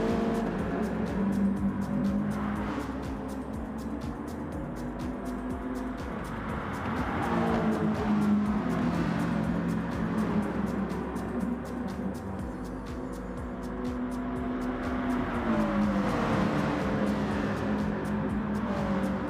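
Several race cars run on a Gran Turismo track at Dragon Trail during a six-hour endurance event, the engine drone steady and layered, with cars swelling past around eight and sixteen seconds.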